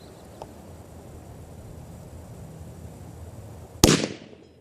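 A single sharp rifle shot from a Ruger American Ranch in 300 Blackout firing a subsonic handload, cracking suddenly near the end after quiet outdoor ambience and ringing off briefly.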